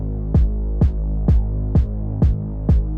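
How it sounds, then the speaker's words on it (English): Music verse with a sustained bass and harmonic bed that ducks and swells in a steady pumping rhythm, six regular dips from sidechain compression applied across the whole spectrum with no separate bands, loud and alone with no talking. "And if we use sidechain without these bands, it will sound like this."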